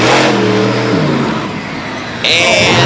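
A monster truck's engine roars loud and close at a racetrack event, holding a steady high rev that dips and surges again; no one speaks over it.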